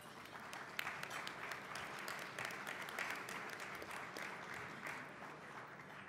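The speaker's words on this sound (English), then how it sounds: "Please give them a round of applause." Sustained applause from a luncheon audience honoring event sponsors, a dense steady wash of many hands clapping at moderate distance throughout, with no talking over it.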